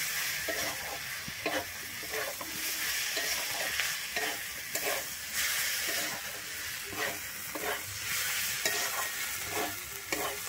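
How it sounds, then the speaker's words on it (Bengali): Yardlong beans and fried potatoes are stir-fried in a pan. A steady sizzle runs throughout, and the spatula makes regular scraping strokes, close and fairly loud. "আমি আলুটা দিয়ে কিন্তু বরবটির সঙ্গে আরেকটু ভালোভাবে কষিয়ে নিচ্ছি।"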